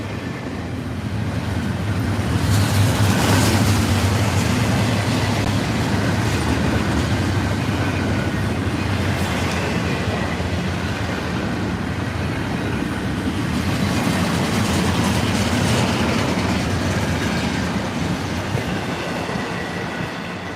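An FEC freight train in Hurricane livery passes close by on the railway at Stuart, Florida, a continuous loud rumble of rolling cars with rhythmic wheel clatter and occasional squeal lasting about twenty seconds.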